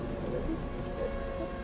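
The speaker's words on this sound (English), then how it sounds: "No, Cyndaquil, it's raining." Steady rain falls throughout, a soft continuous hiss with faint patter and a low rumble underneath, fairly quiet and with no voices.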